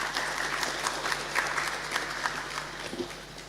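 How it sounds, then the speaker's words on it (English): Lecture audience applauding a panelist at an Eastern Caribbean Central Bank lecture event in Dominica, a steady dense clapping that holds evenly throughout at moderate level, with no talk over it. "I'd like you to just give a round of applause for Mr. Colin Piper."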